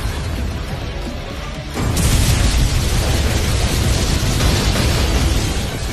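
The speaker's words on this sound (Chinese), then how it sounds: "下一秒，马奇娜瞬身闪现，直接抓住了马尔库斯的手臂，零距离释放魔法，硬生生炸飞了对方的左臂。" An anime magic blast fired at point-blank range erupts in a loud sustained roaring explosion, a sudden surge of booming, crackling noise that stays heavy to the end.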